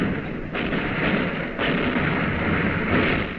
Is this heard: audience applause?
no